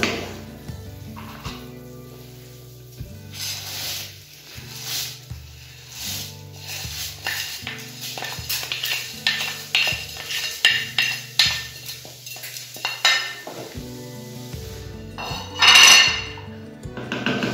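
Rice and chopped pepper tipped into a metal cooking pot, with repeated clinks and scrapes of utensils against the pot and a faint sizzle, growing busier and louder toward the end, no talking.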